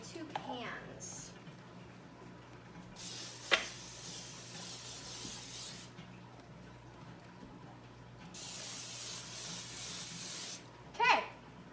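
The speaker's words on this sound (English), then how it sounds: "I'm just gonna use some Baker's Joy and spray my 2 pans." Two long hisses of Baker's Joy baking spray coat a pair of baking pans, each burst lasting a few seconds, with light kitchen clatter and a voice nearby.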